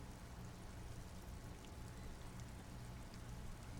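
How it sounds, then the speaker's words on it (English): Steady rain in the video game Disco Elysium, a faint, even wash of falling drops with low rumbling beneath and no voices, unchanging throughout. "This rain will not let up anytime soon"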